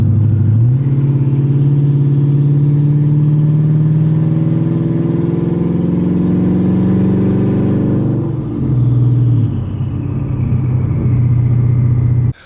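A 1,000-horsepower twin-turbo Mustang with a 10-speed transmission accelerates hard, its engine roaring loud and close in a long rising pull, briefly dipping at a gear change before climbing again.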